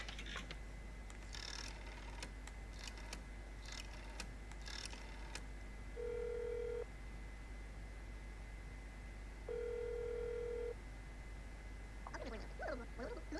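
A phone in the video game That's not my neighbor dials the number 5123: a run of soft keypad clicks, then two long, steady ringing tones separated by a short pause over a low background hum.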